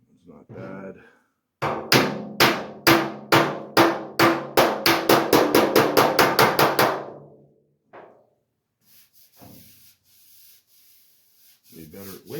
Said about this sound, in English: I'm just going to tap that down ever so slightly.